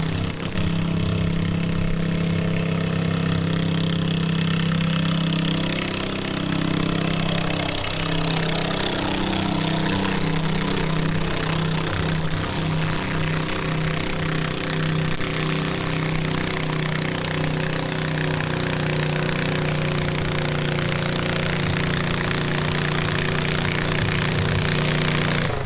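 A garden tractor engine runs steadily at a garden tractor pull, a loud continuous drone with a strong low hum that holds throughout, no talk over it.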